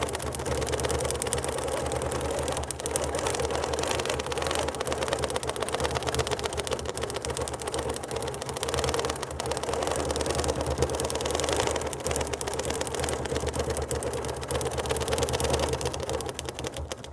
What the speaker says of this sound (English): So I'm going to continue stitching one row at a time and get it all done.